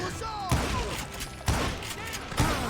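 Gunfire from the Western shooter Call of Juarez: Gunslinger, three sharp, booming shots spaced about a second apart, loud and close, with game ambience and effects filling the gaps between them.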